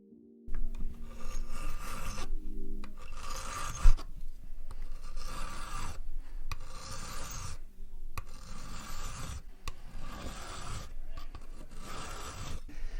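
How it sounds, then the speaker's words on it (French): A hand file rasps back and forth across a metal plate at a jewelry workbench, in repeated close strokes of steady rhythm with brief pauses between them, heard alone. "j'ai employé une lime. La lime va servir à nettoyer et à enlever les traces de Bockfil"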